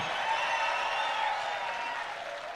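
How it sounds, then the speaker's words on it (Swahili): Applause for a political leader at a rally in Meru, Kenya, heard as a broad, even wash of crowd clapping that holds steady throughout, distant and fairly soft, with no clear speech on top. "Wapi makofi ya kiongozi wa wengi?"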